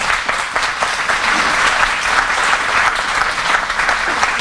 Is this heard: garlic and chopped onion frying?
no